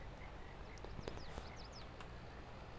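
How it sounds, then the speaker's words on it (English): Bullfrogs croaking in Farming Simulator 22, faint scattered croaks and chirps over a soft steady ambient bed of crickets and outdoor noise. "Can y'all hear that? Like, there's bullfrogs."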